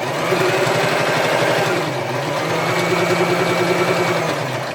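A sewing machine runs slowly and carefully, back-stitching a seam on a puffy fabric Christmas tree, its loud, even motor hum and rapid needle chatter continuing without pause from start to finish.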